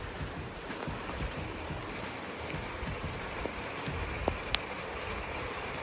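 Heavy rain falls steadily in a hill setting as a storm builds, a dense even hiss with a few distinct drips and drops standing out near the end, with no talk.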